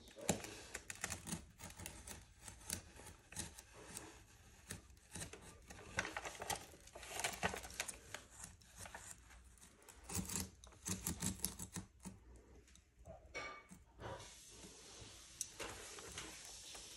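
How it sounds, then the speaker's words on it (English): An X-Acto knife blade is drawn repeatedly through alkali-resistant fiberglass mesh, giving close, scratchy, rapid rasping and ticking in uneven bursts over a quiet room background. "I had to go over it a couple times with the blade just to cut through that alkali resistant fiberglass mesh."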